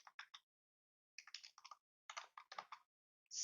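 Someone types on a computer keyboard, faint, close key clicks arriving in short bursts of several presses with brief pauses between them.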